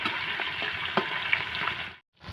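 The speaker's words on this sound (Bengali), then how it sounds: "এই দেখুন মাছ আমি লাল করে ভেজে নিয়েছি এক ফুটে এইটা আমি এবার উল্টিয়ে দিয়েছি" Fish frying in mustard oil in a pan for a potato fish curry: a dense, steady crackling sizzle, close and loud, that cuts out abruptly near the end before resuming.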